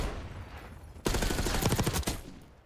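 Rapid gunfire crackles in the Black Ops 6 video game, a dense burst of shots lasting about a second, loud and close, set against steady game ambience.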